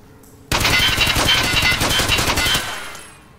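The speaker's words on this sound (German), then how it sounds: "dann probier mal erstmal, ob die SOST überhaupt schießt" An SOST rifle in Escape from Tarkov test-fires at the shooting range: a loud, sustained burst of rapid automatic shots for about two seconds, then a fading tail.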